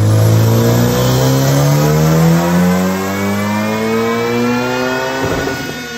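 Turbocharged Honda-based engine on a dyno, revving in one long sustained pull with rising harmonics; loud, steady and close, with no talk over it.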